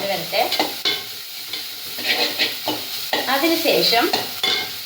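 Coconut and pumpkin leaves sautéing in a pan, with loud close sizzling and repeated scraping stirs in uneven bursts, under a brief spoken word.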